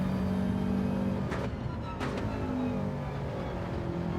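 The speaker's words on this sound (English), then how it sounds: "The exhaust is loud. got a 4-inch system on the Subaru." A Subaru fitted with a 4-inch exhaust from the downpipe, still carrying a catalytic converter, gives a loud, steady low exhaust drone up close that holds without breaks for the whole stretch, with no one speaking.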